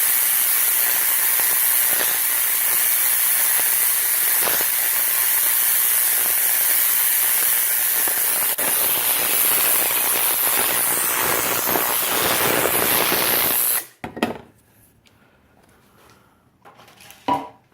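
An overdriven Tesla coil throws high-voltage arcs in a loud, continuous crackling buzz that runs steady for about fourteen seconds, then cuts off abruptly, leaving near silence with a few faint clicks.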